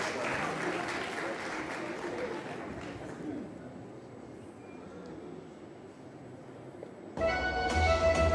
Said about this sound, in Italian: Facciamo un applauso alla scuola Amici del Ballo.